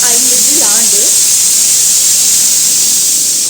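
A pressure cooker whistle blasts steam in a loud, continuous, close hiss that holds steady throughout, after a brief voice at the start.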